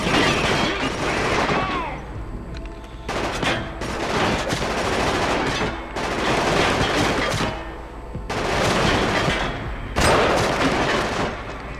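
Loud bursts of gunfire in Killzone 2 in several separate volleys of a few seconds each, close and heavy with booming battle noise between them and a brief voice early on.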